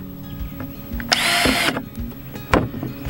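A power drill with a small 5/64 bit bores a hole through the bottom of a plastic container on a Christmas tree farm: one short, loud whining burst, surrounded by faint handling clicks and thumps.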